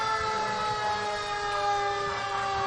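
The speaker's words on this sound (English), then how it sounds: "They saved the best air horn for last" A fire engine's air horn blasts steadily and loud during a Fourth of July civic parade, a sustained tonal honk holding for the whole stretch with crowd noise underneath.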